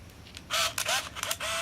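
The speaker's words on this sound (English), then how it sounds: "You can hear the film advance." An Olympus Infinity Stylus Epic compact film camera winds its film with a few bursts of close, whirring motor noise, short buzzing pulses broken by brief gaps, over a faint background hum.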